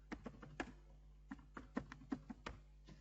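Rapid keystrokes on a computer keyboard while an email is being typed, an uneven patter of close, crisp taps with short pauses between bursts over a faint steady hum.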